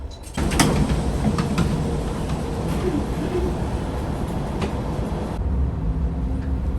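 Inside a train pulling out of Iyo-Kaminada station, a sharp onset gives way to a continuous close rumble with faint creaks and clicks, easing slightly toward the end.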